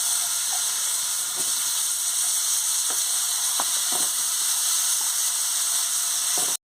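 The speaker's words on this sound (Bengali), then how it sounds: "ফুলকপিটা ভাজা হয়ে গেছে, এবার আমি আলুটাকেই ভেজে নিচ্ছি।" Potato pieces frying in hot oil, cooked right after a batch of cauliflower for a vegetarian cauliflower curry: a steady, close, unbroken sizzle with faint scattered clicks and ticks, no voices.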